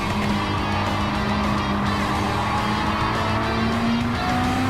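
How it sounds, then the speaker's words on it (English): Four-wheel-drive truck racing on a track, its roughly two-ton body pushed hard with the tires breaking loose; a steady loud engine drone with rising pitch, a whining tone and a wash of tire noise throughout. "You can see him breaking loose even with the 4-wheel drive system"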